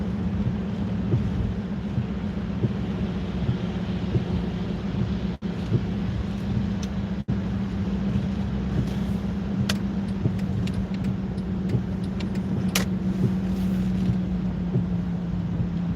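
Rain drums steadily on a car driving along a wet road, a constant low road rumble and hiss with a few sharp clicks and ticks, no talk.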